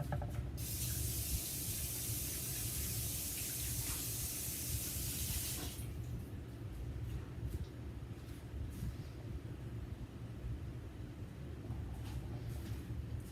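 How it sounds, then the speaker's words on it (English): Water runs from a kitchen tap as hands are rinsed, a loud hissing stream at first that drops to a softer, steady trickle. "Let me go rinse my hands."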